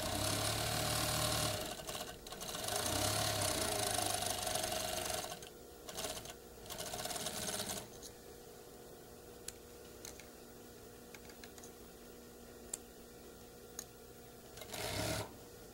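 A sewing machine runs along the long front seam of a shirt, whirring steadily at close range for several seconds, then dropping to quieter, intermittent stitching with faint clicks.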